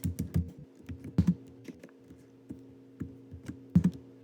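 Keys clack in quick uneven bursts on a computer keyboard, close by, with short pauses between flurries of taps and no voices.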